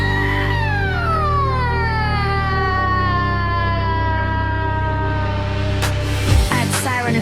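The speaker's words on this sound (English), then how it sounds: "Add siren effects and bass growls." A wailing siren sweeps up and down in long glides over a steady, pulsing bass-heavy electronic beat, loud and continuous throughout.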